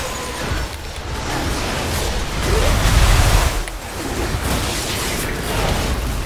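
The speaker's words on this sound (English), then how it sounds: "Infused explosion." A booming explosion in World of Warcraft: Dragonflight's Aberrus raid swells into a loud, rumbling burst midway, set against a continuous wash of noisy battle ambience.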